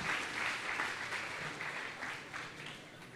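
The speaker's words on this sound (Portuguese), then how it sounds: "Você pode aplaudir ao Senhor mais uma vez?" A church congregation applauds during a celebration service, with steady, dense clapping throughout that eases slightly toward the end.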